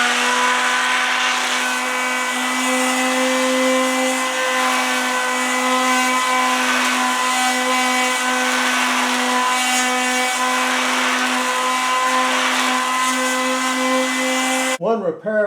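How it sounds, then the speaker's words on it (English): Mechanical sander working the split bottom of an oak chair, a steady droning whine with strong tonal hum that runs unbroken for about fifteen seconds, loud and close, stopping abruptly at the end. "I'm going to use a mechanical sander to sort of help things along a little bit."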